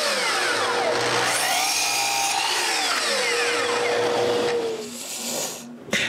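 A power tool whines as it cuts an angle into one end of a piece of wood for a snowmobile sled hitch, loud and close with shifting pitch, then winding down near the end.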